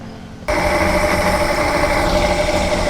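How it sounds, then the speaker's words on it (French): A Johnson Evinrude V6 outboard motor idles at around 750–800 rpm after a tune-up with new spark plugs: a loud, steady, close engine drone that kicks in sharply after a quieter moment, with no talk. "j'ai un régime moteur à ralenti à 750, 800 tours minute"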